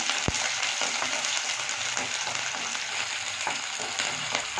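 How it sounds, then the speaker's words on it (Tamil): Onions fry in oil with mustard seeds, chana dal and urad dal, the start of a brinjal stir-fry. A continuous close sizzle carries faint stirring scrapes and one sharp tap near the start, with no speech. "கடலைப்பருப்பு, உளுத்தம்பருப்பு, அடுத்தது வந்து வெங்காயம் போட்டு வணக்கிக்கலாம்."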